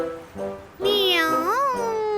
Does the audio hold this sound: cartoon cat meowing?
yes